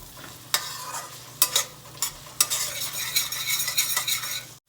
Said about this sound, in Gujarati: સરસ રીતે મિક્સ કરીશું